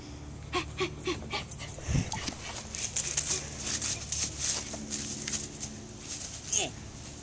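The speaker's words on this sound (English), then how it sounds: "The dog spotted you." A dog pants quickly and whimpers nearby, with a short yip or low thump partway through, against faint outdoor background noise.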